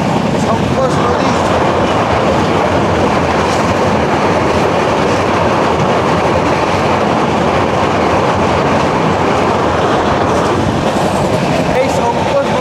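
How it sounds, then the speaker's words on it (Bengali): The Garib Rath Express passenger train runs steadily on rails near the Sankosh river crossing into Assam, a loud continuous rumble and wheel clatter heard from inside the carriage. "আমাদের ট্রেন নিউ আলিপুরদুয়ার থেকে ছাড়লো।"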